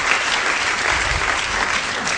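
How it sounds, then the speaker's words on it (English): Audience applause fills the room, a steady, dense clapping held at even loudness throughout. "Everybody give her a round of applause."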